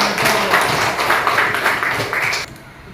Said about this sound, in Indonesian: Tepuk tangan untuk kelompok pertama dulu.